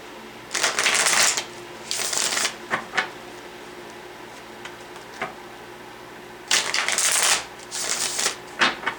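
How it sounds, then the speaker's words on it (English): Tarot cards are shuffled in quick riffling bursts, two near the start and two more later, with light taps and pauses between them. "One more shuffle."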